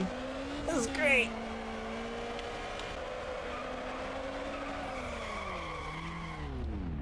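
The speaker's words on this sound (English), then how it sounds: "Oh, look at this long drift!" Long car drift in a racing video game, a steady skidding tire squeal held for several seconds with engine tone sliding down near the end, a short bright burst at the start, moderately loud.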